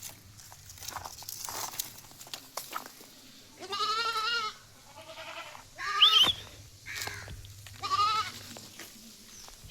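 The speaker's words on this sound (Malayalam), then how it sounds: "നല്ല തീറ്റ വെള്ളം കൂടിയ ചെറിയ കുട്ടിയാട്ടോ" A young female Malabari goat kid bleats several times, clear and close, in wavering cries spread across the stretch, with faint shuffling and steps between calls.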